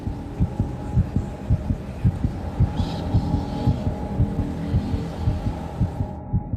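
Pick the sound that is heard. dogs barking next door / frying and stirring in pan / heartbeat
heartbeat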